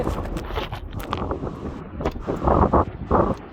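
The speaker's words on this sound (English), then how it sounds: "The wind is starting to pick up." Outdoor wind buffets the microphone in steady gusts, rumbling low and rising toward the end as it picks up, with faint rustling beneath and no talk.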